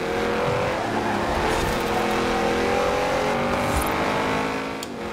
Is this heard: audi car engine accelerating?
yes